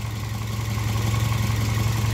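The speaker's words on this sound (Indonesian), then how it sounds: "Mesinnya halus banget guys, ini Vios tahun 2014" A third-generation 2014 Toyota Vios, modified and fully upgraded, runs smoothly with a steady, even low engine hum heard up close.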